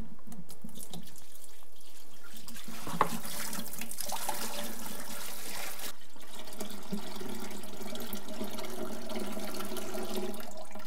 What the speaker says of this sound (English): I fill this up with some water and put the basket on top of it